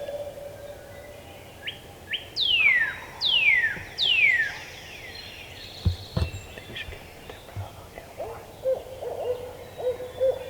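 Three clear descending hoots from an owl, evenly spaced, ringing out against quiet spring woodland in Wisconsin during turkey hunting, with faint rustling afterward.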